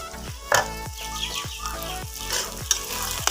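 Vegetables frying in a pan while being stirred, a bright constant sizzle broken by repeated scraping strokes of a spatula at a quick, regular rhythm, close and clear.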